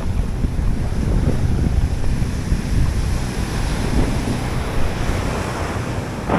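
Sea waves wash and roll on a fishing trip by the shore while strong wind buffets the microphone, making a loud, constant roar with heavy low rumble and no talk.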